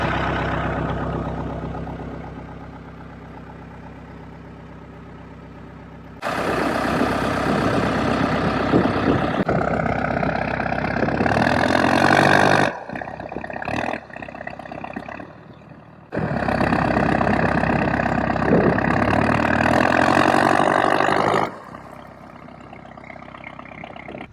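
A Cummins 4BT diesel engine idles while it warms up, loud and close. The heavy, steady idle rumble jumps abruptly in level several times before settling again.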